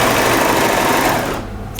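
A sewing machine runs fast and loud, sewing clear elastic into a sweater shoulder seam, a dense rapid stitching buzz that slows and fades near the end.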